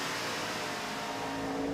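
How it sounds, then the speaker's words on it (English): An ARCA stock car accelerates hard out of Canada corner at Road America, its engine a loud, continuous onboard roar with a steady rising pitch and no voices. "And back on the throttle hard."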